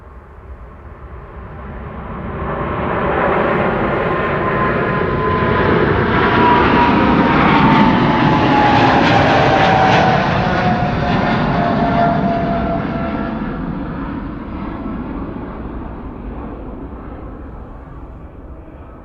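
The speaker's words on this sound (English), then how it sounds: "Has to be one of the best sounds in the game. The GE90s on 777-300ERs." Boeing 777-300ER with GE90 jet engines taking off at Amsterdam Schiphol: a loud roaring jet that swells as it passes close by, with a whining tone over the rumble, then slowly fades, no talking.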